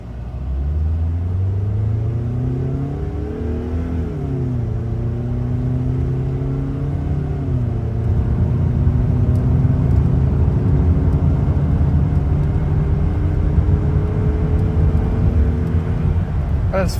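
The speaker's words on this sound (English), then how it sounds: "here's a clip of me trying to accelerate" A road vehicle's engine strains under full throttle, its drone rising slowly and sagging as it bogs down instead of pulling, the steady loud rumble filling the whole stretch with no voices over it.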